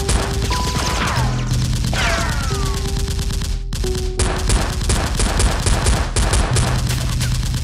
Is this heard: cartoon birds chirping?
no